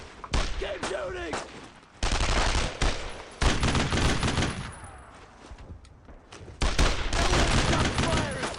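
Sustained gunfire from a World War II battle in Brothers in Arms: Road to Hill 30, with dense bursts and volleys of rifle and machine-gun fire rolling on loudly in waves while a voice shouts over it.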